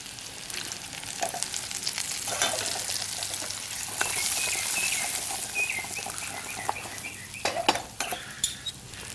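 At an outdoor camp stove, garlic butter chicken thighs and mushrooms fry in one pot with a steady sizzle, while a utensil scrapes and clinks against the pot in irregular stirring strokes.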